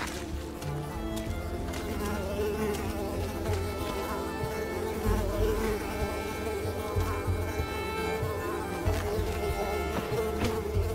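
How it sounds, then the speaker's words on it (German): Mosquitoes buzz in the video game Unravel, a steady insect whine running throughout over a busy game soundscape with low rumbling and music-like tones. "Blöden Mücken."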